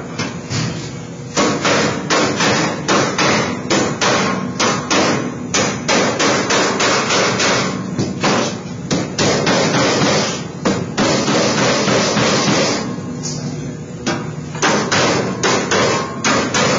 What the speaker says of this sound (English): All we have to do is finish hammering over our Pittsburgh locks